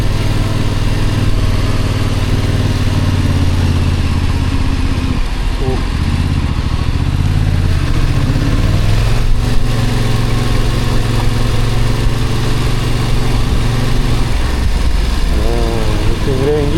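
A motorcycle engine runs steadily and loudly at close range on a ride out to a waterfall, a constant low rumble holding throughout.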